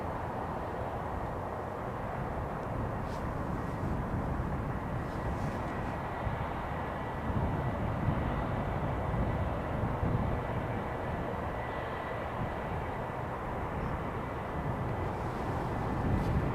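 A Boeing 747 airliner on approach to Schiphol runway 18R, a continuous low jet roar that holds steady and distant for the whole stretch.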